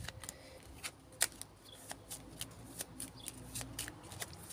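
A 32-card deck of ordinary playing cards is shuffled at close range, giving quiet, repeated riffling snaps and soft card slides in an irregular rhythm, with no talk.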